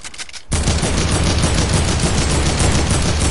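Rapid gunfire in a Fortnite match bursts in after a brief quiet start and holds loud and continuous, a dense crackling stream of shots up close with no pause.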